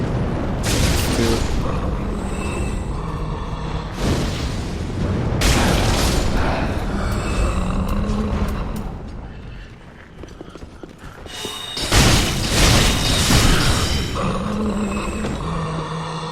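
Fiery spell explosions from fire orbs cast in Dark Souls 3, loud booming bursts with crackling tails that come in several waves over a busy game soundscape.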